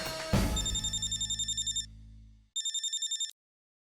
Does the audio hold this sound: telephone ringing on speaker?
yes